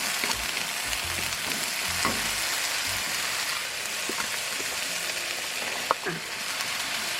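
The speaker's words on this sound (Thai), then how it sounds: "มีความร้อน มีความหอม จะผัดจะผัดนะคะ" Eggplant and thick vegetables stir-fried in a hot pan for a Thai Chinese-pork-sausage dish: a loud, constant sizzle with crackling spatters and occasional thuds and scrapes of the spatula, with no talk heard.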